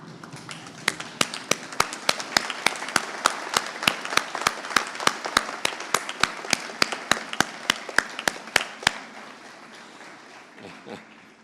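Graduation ceremony audience giving sustained applause, a dense wash of many hands clapping steadily for about nine seconds, then fading out to near quiet.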